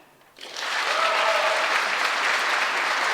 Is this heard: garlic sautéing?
no